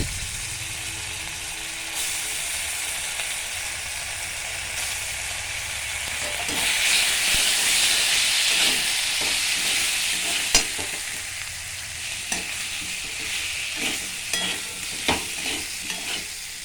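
Ground spices and ginger paste frying in a pan for a vegetarian soybean dish, giving a loud steady sizzle that swells midway, with scattered clinks and scrapes of stirring throughout.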